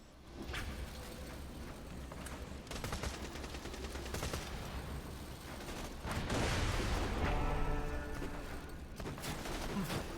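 Turret gunfire in Borderlands Pre-Sequel, rapid rattling volleys of automatic shots in several bursts, swelling louder in the middle, with game effects around them.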